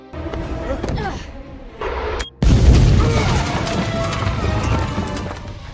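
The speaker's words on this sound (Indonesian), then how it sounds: "melakukan bom bunuh hingga terjadilah ledakan" A loud, rumbling blast from a suicide bombing in an action film erupts after a brief cut to silence, followed by sustained roaring debris and crashing noise under muffled voices.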